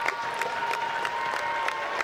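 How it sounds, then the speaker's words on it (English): A sports crowd in a stadium murmurs restlessly after a possible penalty, a steady broad crowd wash with scattered claps and shouts poking through, no clear nearby talk. "there's an unsettled murmur in the crowd as they're thinking that was probably a penalty"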